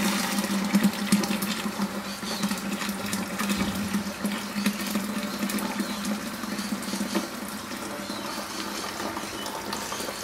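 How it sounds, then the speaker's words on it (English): Steeped dry malt extract liquid poured for home beer brewing, a steady, quiet, continuous splashing trickle close by with no talk. "We can pour our steeped dry malt extract in."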